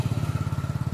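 Motorcycle carrying three riders in Assam, its engine giving a steady, rapid low putter with rhythmic pulses, close and moderately loud, with no voices.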